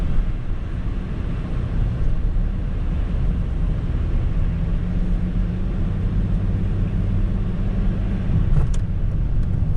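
A 21-year-old BMW E39 sedan drives along a snowy road, its engine and tyre noise forming a loud, steady, close rumble with no talk.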